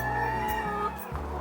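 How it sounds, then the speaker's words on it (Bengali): Chickens on a red layer poultry farm holding about 2,200 birds cluck and call close by in a brief, fairly quiet burst, one higher tonal call standing out. "দেখতে পাচ্ছেন মুরগিগুলো"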